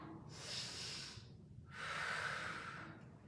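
Two slow, breathy exhales follow one another during a Pilates chair leg exercise. They are soft and close, with a short pause between them.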